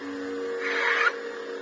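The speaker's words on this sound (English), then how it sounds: "I've also got the sound of my 3D printer going" A 3D printer runs with a steady mechanical hum and a brief rising whir from its moving head, heard on its own and fairly close.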